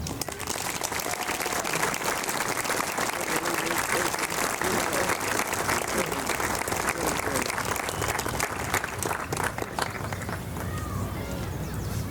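Loud, dense applause from a crowd at an outdoor municipal band event, sustained for several seconds with voices mixed beneath the clapping before it thins out toward the end.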